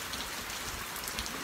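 Steady rain pouring down outdoors, a dense even hiss of drops hitting surfaces, continuous and fairly close with no voices.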